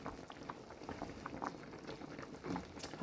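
A pot of pork boils with scotch bonnet pepper, a soft, close bubbling and gurgling that runs steadily throughout, with small pops and liquid patter.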